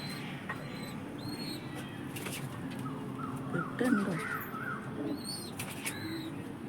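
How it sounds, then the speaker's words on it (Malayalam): A double-eyed female native pigeon coos softly in a loft, low repeated coos near the middle amid steady background noise and faint chirps from other birds. "ഇതൊരു ഡബിൾ കണ്ണ് പ്രാവാണ്. ഇതൊരു ഫീമെയിലാണ്,"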